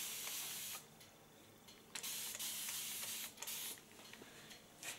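Spray bottle misting water onto short pixie-cut hair in a salon, several brief hissing bursts with pauses between, fairly close and soft, with no talking.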